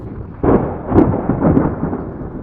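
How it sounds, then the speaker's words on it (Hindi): A sudden loud thunder crack breaks in, then rolls into deep rumbling bursts that continue for two seconds, forming a dramatic storm sound effect. "अचानक से एक ज़ोरदार बिजली की कड़कने की आवाज़ आती है"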